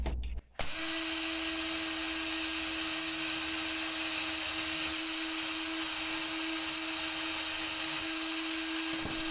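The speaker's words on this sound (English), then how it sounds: "I'm going to put some of the polishing compound onto the wheel." Polishing wheel spinning with compound, buffing scratched plastic safety glasses: a steady droning whine with a strong constant hum that holds evenly after a short start, close and alone.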